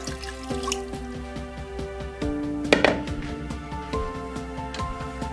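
A little water is poured into a pot of Nigerian jollof rice coated in rich tomato stew, giving soft close drips and a brief trickle against a steady background hum.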